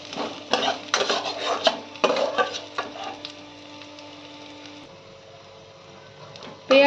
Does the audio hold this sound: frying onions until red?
yes